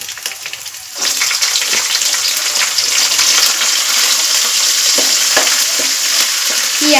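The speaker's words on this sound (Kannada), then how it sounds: "ಹಸಿಮೆಣಸಿನಕಾಯಿ ಕೆಂಪಾಗೋವರೆಗೂ ಸ್ವಲ್ಪ ಎಣ್ಣೆಯಲ್ಲಿ ಮೆತ್ತಗಾಗಬೇಕು" Green chilies and curry leaves fry in hot oil for masala rice, a loud, steady, close sizzle with a crackling hiss that jumps up after the first second and continues with faint stirring.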